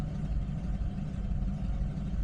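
A 1991 Clarion motorhome's engine drones steadily while driving, a low, continuous rumble with road noise and no talking.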